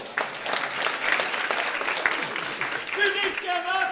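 Audience applause after an improv theatre scene at an improv competition: a warm, steady ripple of many hands clapping throughout, with a voice speaking over the tail end.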